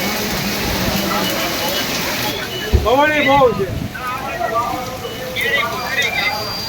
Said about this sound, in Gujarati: વરસાદ વધારે પડતો વધી ગયો